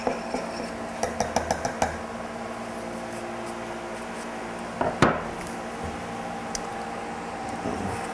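Metal can lids and a stirring tool on a can of ebony wood stain, a run of quick clinks and taps early on, then a sharper knock and scraping stirs, close by in a quiet room.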